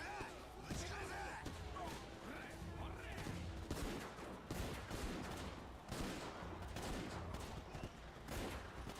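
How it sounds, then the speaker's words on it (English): Rapid gunfire from a shootout with enemies in the video game Yakuza 0, dense bursts of shots over music and shouting game voices throughout, chaotic and loud. "I'm just shooting them."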